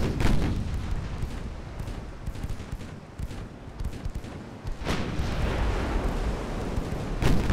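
Heavy seven-inch naval guns boom repeatedly in a navy-building video game, broad rumbling blasts with strong onsets near the start, around five seconds and at the end, over continuous low battle noise.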